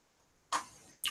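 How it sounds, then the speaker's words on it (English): Two short, crisp bursts of computer keyboard typing, separated by a brief pause, heard close up in a quiet room during a live chat stream, with no talking. "Sorry you hear me typing to that special guest."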